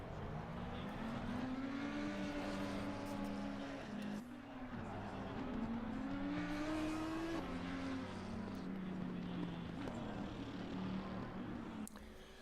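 Race cars on a warm-up lap in the Assetto Corsa Competizione game at Catalunya, several engines droning and rising and falling in pitch as they run together, with a voice talking over them.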